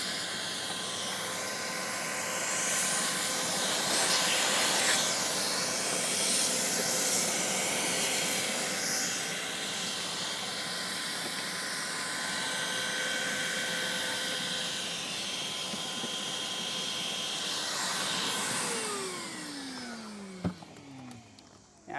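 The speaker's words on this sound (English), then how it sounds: "You know what? I'm gonna vacuum that real quick." Vacuum cleaner running steadily and loudly while clearing a mouse nest from the gas cap area of a 2015 Audi A3, a continuous whooshing hiss with slight surges, then winding down and stopping near the end.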